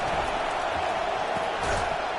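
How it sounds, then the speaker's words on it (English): A football stadium crowd roars loudly for its defense at a Clemson game, a dense, continuous wash of cheering and shouting with brief surges, a commentator's voice partly audible. "It is getting loud as this crowd tries to help its defense."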